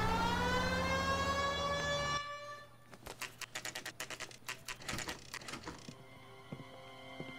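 Police car siren in L.A. Noire, a loud rising wail with strong harmonics that climbs for about two seconds and then cuts off abruptly, followed by clattering game sounds and thuds.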